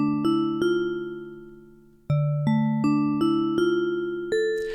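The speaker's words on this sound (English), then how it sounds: "so we're only hearing the collision exciter" Arturia Pigments 6 synth voiced with only its collision exciter: a string of bright, struck, bell-like plucked tones, each sharp attack ringing and decaying, changing pitch midway, alone and moderately quiet.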